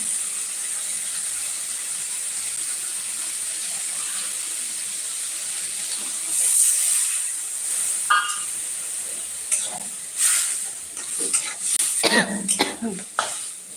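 A woman coughs and clears her throat from the fumes of green chillies frying with onions in a closed kitchen during winter, several harsh coughs late in the clip over a steady sizzle.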